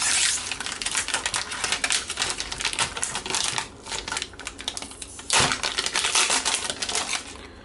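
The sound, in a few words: utility knife cutting open SSD packaging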